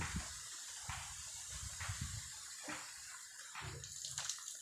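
Water pours steadily into a tile-lined tank with a continuous hissing splash, close by, with faint low thumps underneath.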